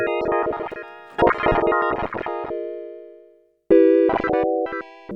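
Bright, buzzy Microkorg synthesizer digital wavetable tones with a glassy timbre, played in short stabs and held notes with pauses between phrases.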